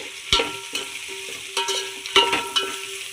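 A spoon stirs vegetable pulao in a pan, giving four or five sharp scraping strokes over a low, steady sizzle, close and fairly loud.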